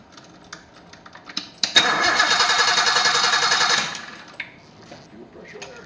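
A turbocharged Datsun 280ZX cranks and fires, the engine catching with a sudden loud burst and running rough for about two seconds before dropping away, with scattered clicks around it.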